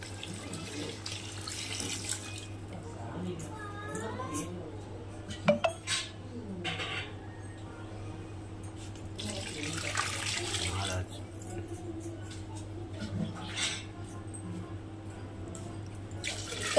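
Water poured by the tumbler into rice in a pot for homemade biryani splashes and trickles in several separate pours with brief gaps, close and moderately quiet, over a steady low hum.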